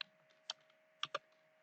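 A few isolated keystrokes on a computer keyboard, quiet and close, come as sparse clicks with a brief double tap near the end over a faint steady hum.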